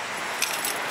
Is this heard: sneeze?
no